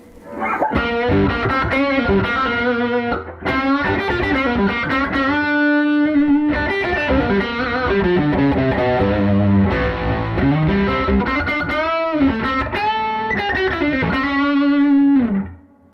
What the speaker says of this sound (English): Let's bring in the distortion again, the overdrive, and see if it muddies up there a little bit.